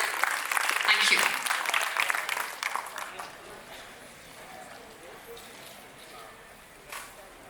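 An audience at a keynote event claps to welcome a speaker on stage, a brisk round of applause that tapers off after about three seconds into quiet room tone with a faint stray sound near the end.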